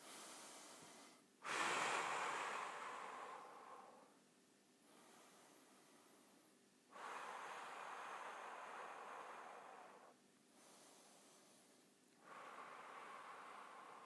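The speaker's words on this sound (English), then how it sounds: "we'll take a few deep breaths" Slow, deep breathing taken close in a bodyweight HIIT workout, with long airy inhales and exhales alternating at an unhurried pace and no talk.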